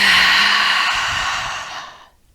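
A long, deep exhale during a yoga breathing exercise, a loud, breathy airy rush close to the microphone that slowly fades over about two seconds into silence.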